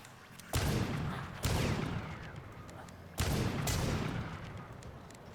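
Gunshots ring out against zombies in The Last Stand: Aftermath: three loud, heavy booms, each with a long decaying tail, spaced a second or two apart in a game.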